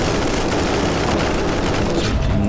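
Dense, continuous gunfire from a firefight in the Warhammer 40,000: Inquisitor - Martyr video game, a loud unbroken barrage of shots and booms running through the whole stretch with no talk.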